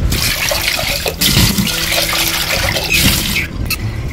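Water sloshes and pours in a pot as rice is swished and rinsed, a close, continuous splashing with brief pauses.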